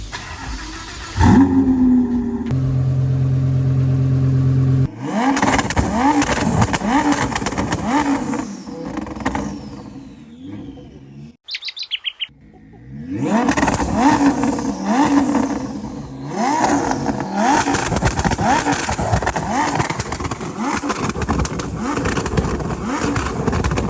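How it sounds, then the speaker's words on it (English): Lamborghini Huracan engine revving hard with exhaust pops and flames, loud repeated throttle blips and bursts with a brief drop to near silence, then more revving and crackling pops. "let me fire up this Huracan and see what we got"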